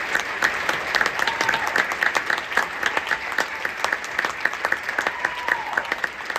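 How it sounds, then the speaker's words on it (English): Audience applause at a school wind ensemble spring band concert, honoring the concert's theater managers: many dense, steady hand claps from a sizable crowd, sustained evenly for several seconds without talk. "If we give a big round of applause for them."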